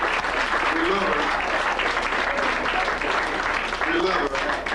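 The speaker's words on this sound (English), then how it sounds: "I want you just to raise your hands and give a great round of applause" An audience gives a continuous, loud round of applause for a young woman at a gathering, dense clapping filling the room with a voice briefly audible beneath it.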